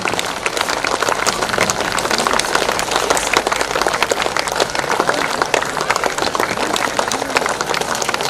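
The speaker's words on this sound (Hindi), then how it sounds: "तो आप सभी से आग्रह है कि जोरदार तालियां बजाओ।" Dense, sustained applause from an audience at a district gathering, many hands clapping evenly and loudly for the whole stretch with no pauses.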